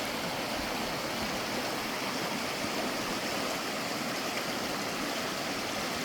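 Continuous rushing of Fall Creek water fills the clip, a steady broad hiss of flowing current with no voices.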